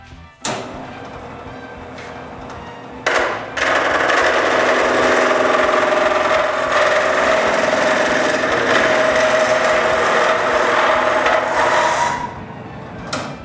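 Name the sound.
wood block being turned round on a lathe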